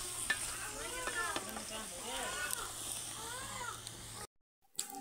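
Eggplant frying in a pan on a rooftop stove, a steady sizzle with repeated scraping stirs, a cat meowing several times nearby, then a brief cut to silence before the sound resumes.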